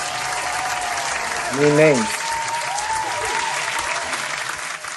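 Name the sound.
round of applause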